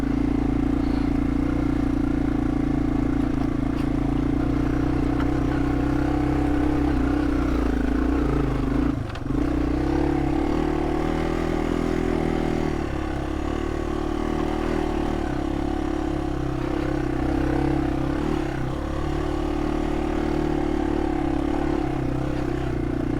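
A Yamaha TW200 motorcycle rides off-road, its engine droning steadily and loudly throughout with constant rumble, rattle and clatter from the rough terrain, broken by one brief jolt midway.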